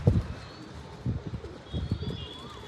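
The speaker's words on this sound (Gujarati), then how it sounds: "આપણા બધા કબૂતર ઉપર બેઠા છીએ અને પાખડા ખુલ્લા છે" Several pigeons cooing nearby in a loft, soft low throaty bursts repeating in an uneven rhythm, with faint chirps in the background.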